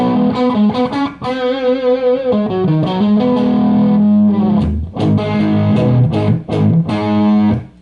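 Loud, overdriven electric guitar through a tube amp and bass cabinet, playing chords and riffs with a thick, saturated tone, sustained throughout with brief gaps between phrases.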